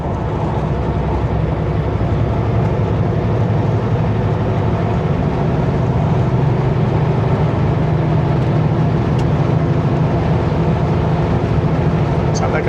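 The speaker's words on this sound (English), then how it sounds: "Sounds like a little Datsun. Little Datsun RVs." Engine of a small Datsun RV on a highway beside Kamloops Lake in BC, a steady broadband rumble with road noise that holds even and loud for the whole stretch, no gaps.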